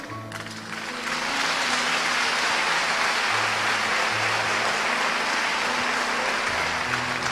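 A church congregation breaks into applause during a sermon: quieter clapping at first, then a sudden swell into loud, dense, sustained clapping that holds steady to the end, with no voices heard.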